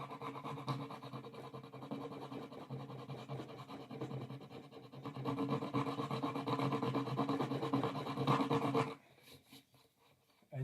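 Someone works a file steadily by hand over the wooden body of a custom guitar to take down bumps. The close, continuous rasping scrape grows louder midway and then stops abruptly, leaving a few faint taps.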